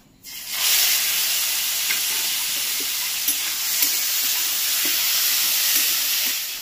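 Shrimp frying lightly in hot oil for a Bengali Malabar spinach dish, giving a steady, close sizzle with soft crackles and occasional spatters throughout.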